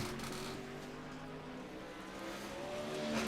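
Number 19 dirt track race car on its qualifying lap at Lanier National Speedway: a steady, droning engine note, somewhat distant, holding pitch with a slight rise near the end.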